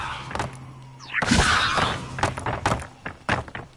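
Hogwarts Legacy Levioso levitation spell cast in the game: a whooshing magical swoosh with a rising sweep and a dull thunk, followed by several short knocks and taps.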